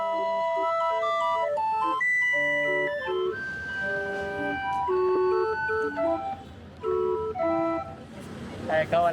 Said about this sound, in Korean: 외발 손풍금 소리가 정겹다.